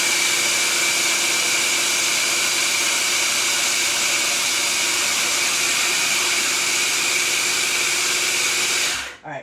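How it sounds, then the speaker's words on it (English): A blender whirs continuously at high speed, blending a healthy Alfredo sauce until smooth, a loud, steady, unbroken whine that cuts off abruptly at the very end. "blend it till it's smooth"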